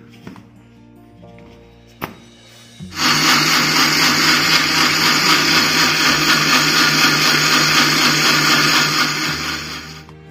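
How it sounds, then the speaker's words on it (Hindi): A kitchen mixer grinder kicks on loudly after a few quiet seconds, blending watermelon with sugar into juice in a steady, dense whir that runs for about seven seconds before easing slightly at the end. "अब हम इसे एक बार फिर से ग्राइंड कर लेते हैं"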